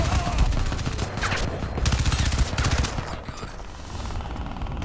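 Super weapon fire in the video game Crysis 3, dense rapid bursts of heavy gunfire with booming low thumps, loud and near, rising and falling in intensity throughout.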